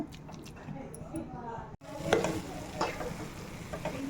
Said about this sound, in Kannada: ಆಗಾಗ ಮಧ್ಯೆ ಮಧ್ಯೆ ಕೈಯಾಡಿಸಿ ಸ್ವಲ್ಪ ಹೊತ್ತು ಬಿಟ್ಟು ಬಿಟ್ಟು ಕೈಯಾಡಿಸ್ತಾ ಇರಬೇಕು